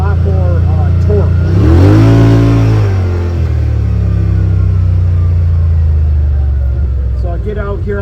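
A car engine revs and accelerates after a Weller Racing ECU flash and exhaust tip change, a loud close rising then falling engine note with rumbling exhaust, with a voice talking over it.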